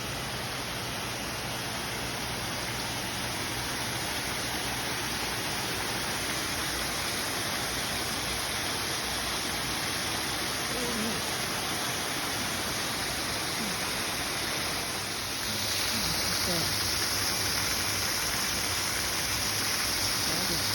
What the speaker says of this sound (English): it's not like a raging water running here, but it's really neat how it's like steps coming down